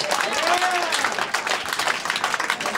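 A church crowd applauds and claps during a street worship night, the sound dense and sustained, with brief vocal tones and cheers rising over the clapping.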